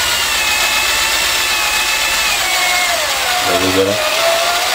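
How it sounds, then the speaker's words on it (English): A variable speed power drill whines steadily as it grinds leather, its pitch sliding lower as the speed drops. A brief spoken remark comes near the end. "This is a variable speed drill, and so I'm slowing it down a little bit"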